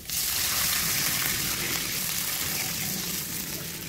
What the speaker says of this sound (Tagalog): At maglagay tayo ng bowl of tubig.